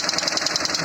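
A GAZelle van engine with a ZMZ-402 unit idles with a rapid, steady metallic knocking that repeats evenly several times per second, close and alone.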